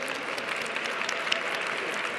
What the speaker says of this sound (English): a warm round of applause for Patricia.